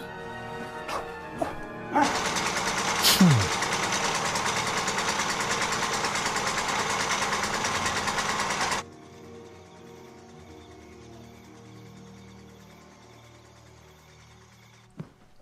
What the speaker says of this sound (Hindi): मुझे जनरेटर में थोड़ा तेल डालना पड़ेगा